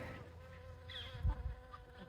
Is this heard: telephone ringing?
no